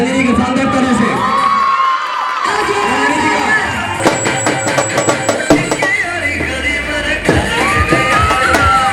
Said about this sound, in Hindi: रंजनी जी को मैं चाहूंगा शानदार ताली से स्वागत करें